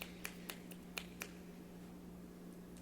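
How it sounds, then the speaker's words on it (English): Finger snaps, about six crisp, close snaps in quick succession over the first second and a quarter, then quiet room tone with a low hum. "snap your fingers fast, you would do this."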